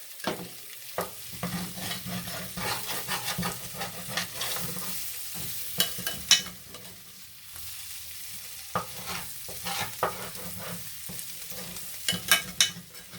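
Potatoes being smothered and browning in a pan while a utensil scrapes the crust off the bottom, with a low steady sizzle broken by repeated sharp scraping and tapping strokes, close and moderately loud.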